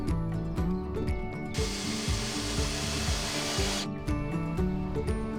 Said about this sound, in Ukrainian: встановлюємо дві палиці і прикручуємо їх саморізами